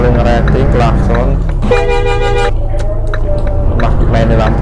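A bus horn in Euro Truck Simulator 2 honks in a few short toots, then gives one sustained blare, loud over continuous engine drone while someone talks.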